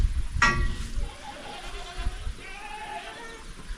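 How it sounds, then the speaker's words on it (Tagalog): One loud goat bleat near the start, followed by quieter background rustle and faint distant sounds. "Yung kambing natin na si Dayan."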